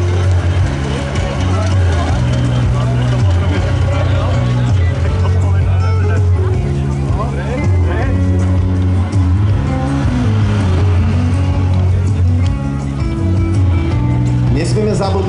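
Tractor in a tractor trial competition at Malá Čierna 2025: a loud, steady engine drone with shifting revs runs throughout, under a continuous excited commentary voice and crowd noise.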